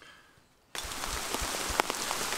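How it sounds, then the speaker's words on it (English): Rain shower falling on a forested hiking trail in Utah, starting abruptly after a quiet moment, then a steady dense patter of drops with scattered louder individual hits close by. "just a light rain shower."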